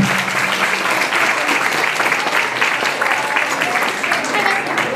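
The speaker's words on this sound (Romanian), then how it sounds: "Aplauze, vă rog!" Loud, continuous applause from a crowd at a Romanian local television event with children, dense clapping close by with voices mixed in throughout.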